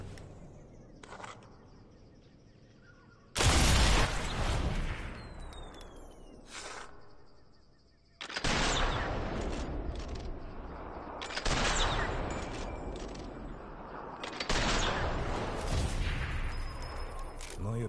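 Gunfire in the video game Sniper Elite 4 rings out in several sharp, loud bursts, each followed by a decaying tail, separated by quieter stretches of ambient game sound.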